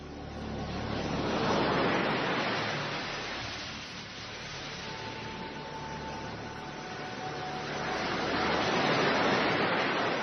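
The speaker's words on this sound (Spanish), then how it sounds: "y estas olas que nos pone Carlos Nicolás" Ocean waves wash in a steady, broad roar, swelling and receding slowly in two long surges over about ten seconds, loud and continuous with no voices.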